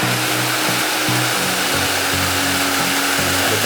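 A small waterfall on Mount Papandayan in Garut pours with a steady, loud, broadband rush that never lets up, with a faint low hum running underneath.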